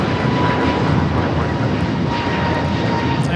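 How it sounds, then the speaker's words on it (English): A Korean Air Airbus A380 takes off from Los Angeles airport, its jet engines giving a loud, steady broadband roar that holds unbroken throughout. "Korean Air Flight 18 Super taking off to Seoul on the A380"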